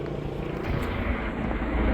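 A helicopter flies overhead, giving a faint, steady rotor and engine drone that swells slightly over a couple of seconds.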